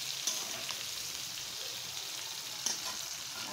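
Eggplant slices fry in hot oil in a home kitchen with a steady, fairly close sizzling hiss that holds evenly throughout, broken by two faint clicks.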